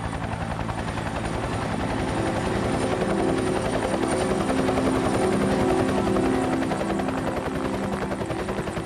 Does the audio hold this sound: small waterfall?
no